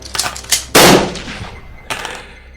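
A loud shotgun blast sound effect plays during a Star Quest tabletop game, with a few short bangs, one big burst near the middle and a last shot, each abrupt with a short decay.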